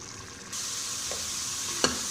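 Spiced meat sizzles steadily as it fries in a hot pan, growing louder partway through, with a spoon scraping and knocking against the pan near the end.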